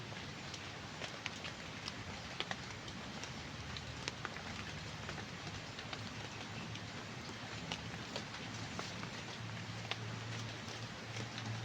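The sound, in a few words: rain falling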